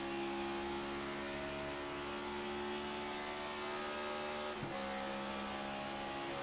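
Onboard stock car engine in iRacing at Indianapolis, a loud steady high-pitched drone held nearly constant, with one brief sharp dip like a gear change or lift before resuming.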